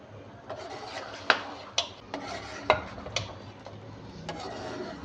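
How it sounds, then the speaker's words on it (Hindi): Beef and ground tomatoes fry in a pot for Afghani beef karahi, with a quiet sizzle underneath and several sharp clinks and scrapes from a spoon stirring against the pot, spaced irregularly and fairly close. "टमाटर डालने के बाद हम 5 से 7 मिनट के लिए मज़ीद भून लेंगे।"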